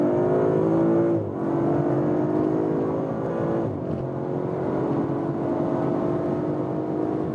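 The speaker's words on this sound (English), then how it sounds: "what happens when we are already at about 80 kilometers an hour, like 50 miles an hour, and accelerate it out" A 2021 Audi RS5 Sportback in RS mode accelerates hard from around 80 km/h up to the rev limiter, a loud, continuous rising engine note with two brief dips at gear changes, heard from inside the car without talk.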